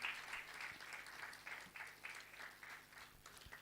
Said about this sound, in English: let's clap for Mr. Andrew Kibuuka Mukiibi, our moderato